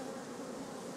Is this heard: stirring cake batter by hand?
no